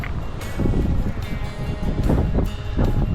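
Gusting wind at a cold winter spring creek buffets the microphone in steady loud rumbling waves, with short stronger gusts throughout.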